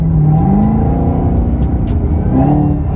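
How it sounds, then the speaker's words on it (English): A Camaro ZL1's exhaust roars loudly up close, its engine pitch rising in revs, dropping, then climbing again over a deep rumble. "You hear that exhaust? Big boy ZL1."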